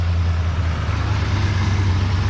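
A 1950s Ford, Mercury, Pontiac or Chevrolet car engine idles steadily after a first start, a loud, close, even low rumble with no voices over it.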